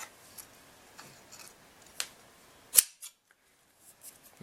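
Several crisp scissor snips cutting Fireline beading thread sound close up at irregular intervals, one sharper and louder cut standing out, with quiet pauses between.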